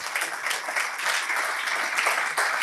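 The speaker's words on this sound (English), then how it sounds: "Can I get another thunderous round of applause for Meliburu?" A steady, dense round of applause fills the air at a graduation ceremony, many hands clapping together evenly and fairly loudly with no pauses, close and sustained throughout.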